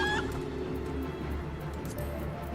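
Short bursts of chicken clucking from a fantasy role-playing video game quest, fairly loud over steady game background sound, with no voices over it.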